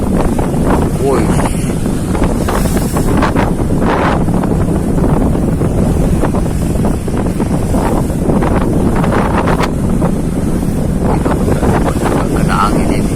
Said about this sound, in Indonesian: kena angin ini.